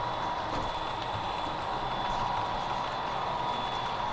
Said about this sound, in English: You see the loco heading down this way.